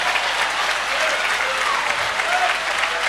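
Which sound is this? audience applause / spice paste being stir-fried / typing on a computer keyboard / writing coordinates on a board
audience applause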